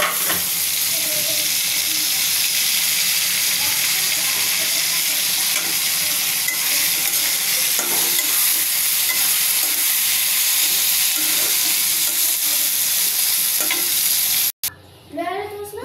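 Garlic, onion and chilli sizzle steadily in hot oil for a pumpkin-leaf and bean mash, with occasional stirring scrapes, loud and close, before an abrupt cut near the end.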